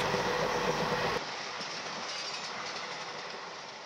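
Steady rumbling rattle of a moving night train, a continuous clattering roar that shifts slightly in tone partway through, with no voices.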